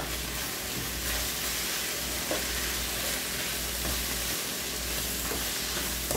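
Chopped tomato hits a hot griddle of pasta and meat, producing a steady, loud, broadband sizzle that hisses continuously throughout without letting up, with no talking.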